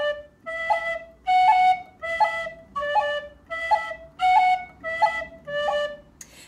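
A tin whistle plays short notes moving up and down over three pitches, about eight clear tones in a steady, even rhythm, close and bright.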